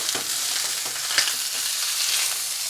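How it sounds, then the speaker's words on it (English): A steak searing in a hot pan on a barbecue, giving a dense, continuous loud sizzle with a faint scrape of a spatula sliding underneath, no voices. "I'm just going to get my spatula underneath the steak"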